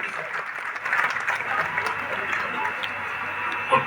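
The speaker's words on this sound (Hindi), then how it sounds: "जोरदार तालियां सभागार के उपस्थित प्रत्येक व्यक्ति से।" An auditorium audience claps for the Prime Minister, a steady, moderately loud patter of many hands with a little background voice.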